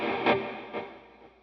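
An overdriven electric guitar plays two gritty strummed chord hits about half a second apart, each ringing out and fading, played alone.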